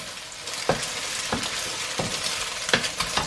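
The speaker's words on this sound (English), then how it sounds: "fry a little bit" Eggs and Chinese sauces sizzle and fry in a pan for special fried rice, a steady close hiss broken by several sharp scraping stirs at regular intervals.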